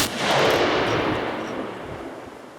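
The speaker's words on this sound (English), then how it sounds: "Here's the 338 Lapua with a T4 Terminator brake on it, shooting 300 grain ECMKs at 2600 feet per second." A .338 Lapua Magnum rifle fitted with a T4 Terminator muzzle brake, firing 300-grain ECMK rounds; a single loud, sharp report bursts out at the start and rolls off into a long fading echo outdoors.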